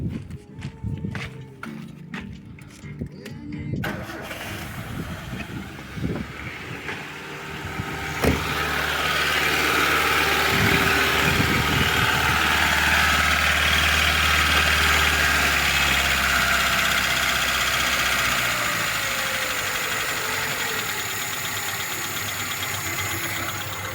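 A Lada Niva engine fitted with a Solex 073 carburetor cranks with choke applied, catches and settles into a loud, steady idle that runs on nearby after some faint handling noises.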